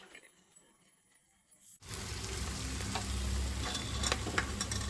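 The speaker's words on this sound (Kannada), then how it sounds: "ಹಚ್ಚಿಟ್ಟಿರೋದು ಕಟ್ ಮಾಡಿಕೊಂಡಿರೋ ಈರುಳ್ಳಿ ಹಾಕ್ತಾ ಇದ್ದೀನಿ." Chopped onions tipped into a hot tempering for village-style crab sambar: after near-silence, a loud, steady sizzle of frying starts suddenly and continues close up, with stirring scrapes.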